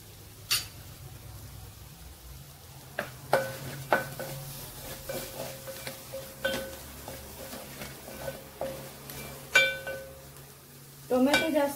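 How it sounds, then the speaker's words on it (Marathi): Fresh coriander dropped into a hot tempering for a sev and onion curry, with a soft sizzle under scattered spoon clinks and scrapes against the pan, close by, ending in a brisker stir. "यातली थोडी कोथिंबीर आता मी फोडणीत घालते, त्याचा स्वाद चांगला उतरतो"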